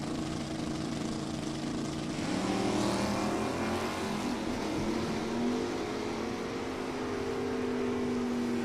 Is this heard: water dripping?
no